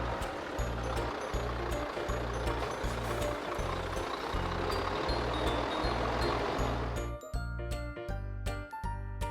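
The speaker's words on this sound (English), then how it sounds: "Garbage truck." A toy garbage truck reversing gives out a steady run of evenly spaced beeps that repeat throughout, fairly close and clear, over a continuous noisy background with no talk.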